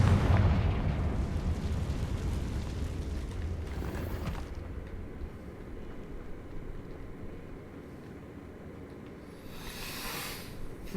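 A Confringo fire spell cast in the video game Hogwarts Legacy bursts into a loud explosive boom at the start, then rumbles and fades, with a brief crackling burst near the end and no talk.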